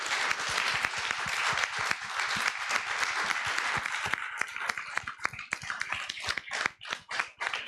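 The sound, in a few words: audience applause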